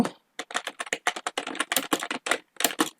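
Quick bursts of keystrokes on a computer keyboard as a search is typed into a browser, close and crisp, in uneven short runs with no speech.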